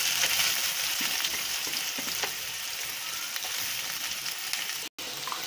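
Chopped onions hit hot oil in a kadai and fry with a loud, continuous sizzle close by, crackling steadily throughout without any talk.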